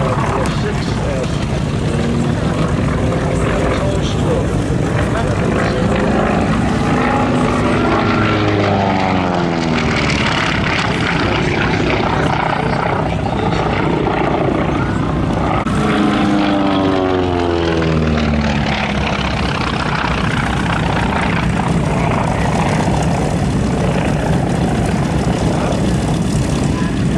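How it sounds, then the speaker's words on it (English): A World War 2 fighter plane makes a low, fast pass at an air show, its propeller engine roaring loudly and sweeping past twice with a rising and falling drone over constant background noise; a voice speaks over it. "as Greg Sheldon comes by, low and fast"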